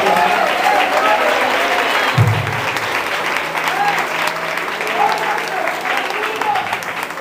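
A church congregation claps steadily in a dense, sustained round of applause at a Brazilian evangelical service, filling the room throughout with a brief low thump partway through.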